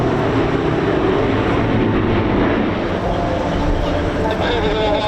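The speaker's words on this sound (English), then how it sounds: "it's got a really distinctive sound, this particular engine. It's a radial engine, very similar to the Pratt & Whitney" Radial-engine aircraft of about 450 horsepower, similar to a Pratt & Whitney, flying at the Bournemouth Air Festival. A steady, rough engine drone continues throughout beneath an announcer's commentary.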